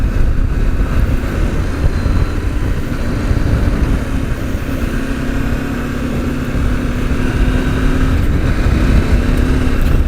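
KTM 1290 or 890 Adventure R motorcycle engine droning steadily and loud throughout, with wind rush over the microphone and a slight pitch rise as the rider pops the front wheel up.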